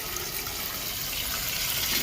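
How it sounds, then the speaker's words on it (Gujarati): Sugar-salt water poured into a hot dhokla tempering makes a continuous loud rush and sizzle close up, steady for the whole short stretch with no talking. "હવે આપણે જે ખાંડનું નમકનું પાણી કર્યું એ નાખી દઈએ"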